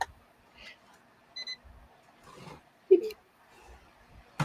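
A Singer digital sewing machine gives a single short, high electronic beep as it is moved, among faint clunks and a brief squeak in an otherwise quiet room.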